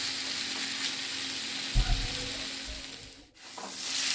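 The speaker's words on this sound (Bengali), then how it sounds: "এবার বেশ কিছুক্ষণ ধরে আমি এটা কষিয়ে নেব" Fish masala sautéing in a pan over a medium gas flame, sizzling steadily for several seconds, with a couple of soft stirring bumps partway through and a brief dip near the end.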